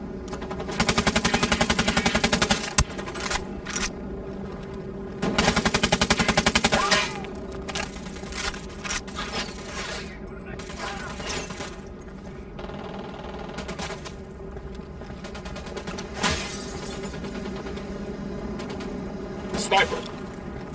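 Rapid automatic gunfire rattles in the tactical shooter Ghost Recon Wildlands, loud sustained bursts with short pauses between them, set over a steady game background hum.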